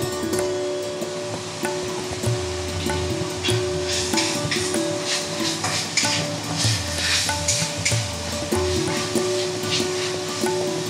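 Ginger-garlic paste sizzles in oil over fried onion paste in a pan, a steady close frying hiss with repeated scraping stir strokes throughout, no voices.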